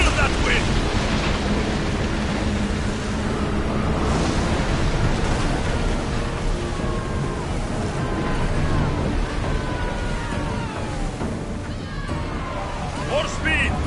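Wind and waves rush steadily around a sailing warship at sea in Assassin's Creed Odyssey, a dense, constant broadband roar with sloshing surf, while voices and battle shouts sound over it.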